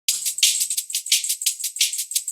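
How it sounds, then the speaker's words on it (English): Hi-hats play a slightly swung, steady pattern of crisp, bright ticks and short open hits in a liquid drum and bass track, repeating evenly and fairly close with no other instruments. "we have a hi-hat pattern which is slightly swung"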